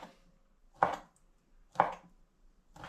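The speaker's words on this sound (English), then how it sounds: "now it's time to get my 3 chorizo sausages, and I'm going to cut these into thin slices, like so" A knife slicing chorizo sausages into thin rounds on a board, three distinct cuts spaced about a second apart, each a short crisp chop standing out from near-silence.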